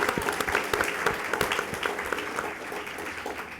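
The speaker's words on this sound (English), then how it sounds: "First, a quick round of applause for Adam." An audience gives a round of applause at a political discussion event at the Institute of Politics. The clapping is dense and lively, with crisp individual claps, then it gradually thins toward the end.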